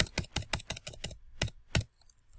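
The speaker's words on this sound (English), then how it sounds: "if you want to put your title in there, you just go in and type it" A chart title is typed on a computer keyboard in quick, crisp keystrokes, a rapid run of close clicks followed by a brief pause and two final taps.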